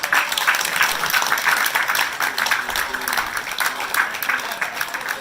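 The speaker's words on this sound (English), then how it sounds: "a thunderous round of applause" Loud, sustained applause from a magic show audience, dense and steady clapping that continues throughout without pause.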